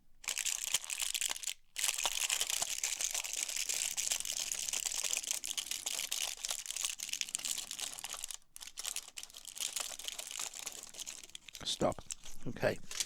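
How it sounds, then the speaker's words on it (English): Crinkly paper crumpled close to the microphone, a loud steady crackling rustle that goes on for several seconds, with a few brief pauses and a busier burst near the end. "I'm going to record some crinkly paper."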